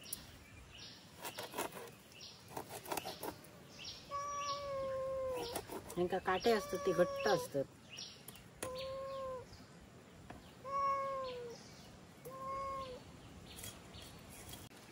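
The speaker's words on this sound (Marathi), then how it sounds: "मांजरा बघा किती जमली हो." Several cats gather and meow repeatedly while fish are cleaned outdoors in a village setting, the cries rising and falling in short calls, some overlapping, near and fairly loud, with someone talking between them.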